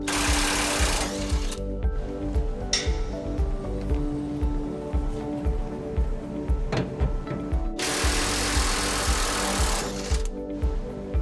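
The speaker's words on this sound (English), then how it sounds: "We got a 21mm socket on our electric impact." An electric impact wrench with a 21mm socket hammers steadily on bolts on a 2005 Chevrolet Silverado 1500 during a trailer hitch installation, a loud continuous buzzing rattle with brief changes in pitch, no talking.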